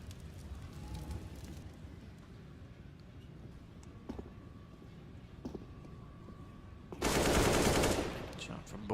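Gunfire in a competitive shooter match: scattered faint shots over steady background hiss, then a loud dense burst of automatic fire lasting about a second near the end.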